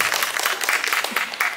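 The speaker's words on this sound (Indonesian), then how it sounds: "Tepuk tangan dulu dong" A brief burst of clapping from a small crowd at a café talk show, scattered hands applauding together for a moment.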